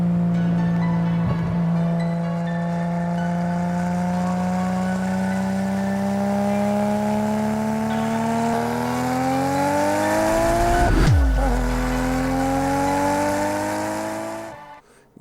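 Nissan Skyline R34 GT-R fitted with a Tomei straight pipe and HKS front pipe: a loud, raspy engine holds a steady drone, then rises, dips sharply and climbs again before fading out near the end.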